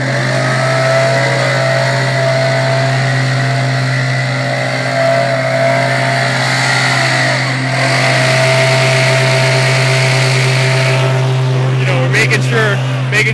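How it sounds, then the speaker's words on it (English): A steady, loud drone of fossil-fuel powered leaf collecting equipment with a hopper, a constant engine hum running close and unbroken throughout. "we keep on using the fossil fuel powered instruments and equipment to rake up all the leaves and put them in the hopper"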